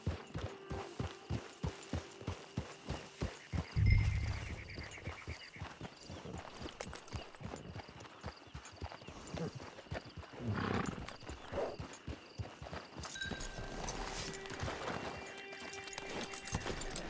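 Horse hooves in Red Dead beat in a steady, rhythmic clip-clop at first, then become looser and more scattered under swelling game ambience, with a snort or whinny partway through.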